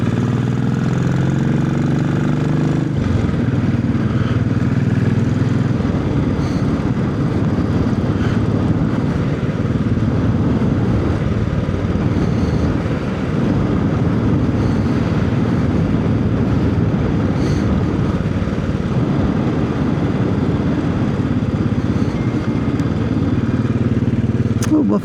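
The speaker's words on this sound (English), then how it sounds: "I was on the verge of stalling there, but it's quite hard to stall this engine." A Classic 500 motorcycle's single-cylinder engine thumps steadily while riding a country road, a continuous low rumble mixed with wind buffeting on the microphone, close and loud throughout.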